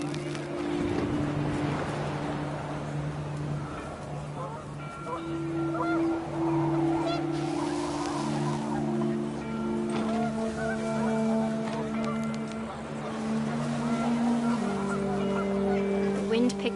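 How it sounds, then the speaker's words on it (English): Panicked geese honking in the game What Remains of Edith Finch, a cluster of layered honks rising over steady wind and a low tonal drone, with a voice speaking alongside. "The wind picked up, and panicked geese appeared and quickly went."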